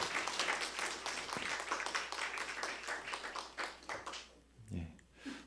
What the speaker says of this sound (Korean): 다시 한번 힘찬 박수 보내주시기 바랍니다.